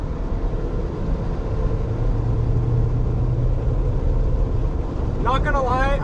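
A Sprinter van's engine roars at full throttle on a race track, a loud continuous drone with a rising note near the end and no speech over it.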